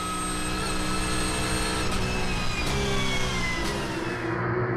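Yellow Porsche race cars battle closely on the Val de Vienne circuit, their engines roaring loud and steady with high, shifting engine tones as the tightly grouped pack passes, and no voices.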